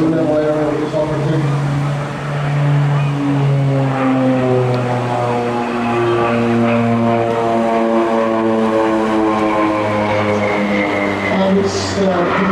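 An OV-10 Bronco propeller aircraft flies a demonstration at the Rhyl Airshow 2017, its loud droning engine harmonics sliding gradually downward as it passes, steady and powerful throughout.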